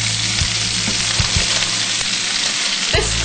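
Fresh baby spinach sizzles and fries steadily in a hot pan with garlic, a continuous close crackle broken by a few soft stirring knocks.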